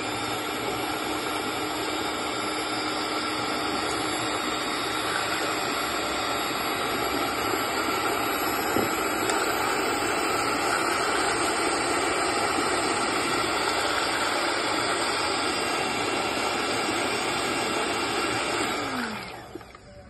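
A mixer grinder churns butter from set curd at home, a loud, steady whirring drone holding continuously for about nineteen seconds before the motor winds down and stops.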